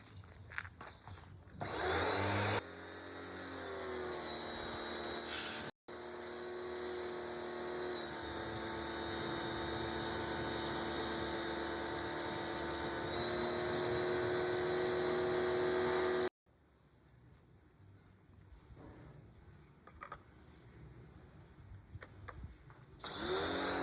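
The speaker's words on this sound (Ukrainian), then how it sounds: "Зараз ми побачимо, як він працює, як, який звук видає." A Land multifunction cleaning machine, PRO version, runs with a steady, loud motor drone and whine for several seconds, cutting off abruptly before a quieter stretch of rattling and handling noise.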